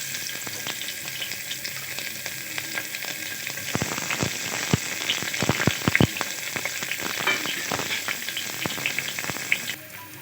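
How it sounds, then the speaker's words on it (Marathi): Finely chopped onion hits hot oil with whole spices for veg pulao, bursting into a loud, continuous sizzle with scattered crackles and stirring scrapes, steady throughout and close up. "आता खडे मसाले झाल्यानंतर आपण त्यावरती आता चिरलेला बारीक चिरलेला कांदा टाकूया"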